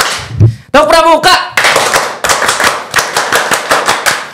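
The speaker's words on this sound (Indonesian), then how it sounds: "Tepuk tangan 1 kali. Nah, 2 kali. Tepuk pramuka." A crowd claps a loud, rhythmic scout clapping pattern in sharp, evenly spaced bursts that repeat steadily, following a brief voice at the start.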